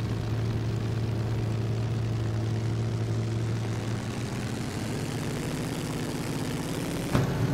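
Vintage 1920s Grand Prix race cars at Indianapolis start up in a racing video game, a steady, loud droning engine roar holding throughout with a low tonal hum, a sharp burst near the end.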